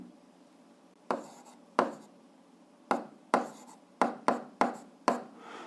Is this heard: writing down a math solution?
yes